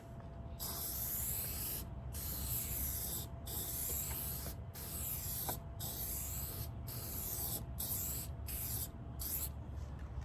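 Meguiar's headlight coating sprayed from an aerosol can onto a car headlight in a string of steady hissing bursts, each a second or so long with short gaps between, close and fairly faint.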